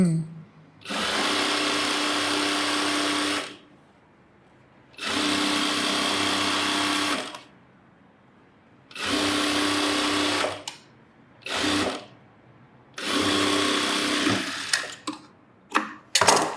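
A sewing machine stitches a chudithar in bursts of steady, fast whirring, each lasting a few seconds, with quiet gaps between them. Shorter runs come near the end, and the machine sounds close and loud.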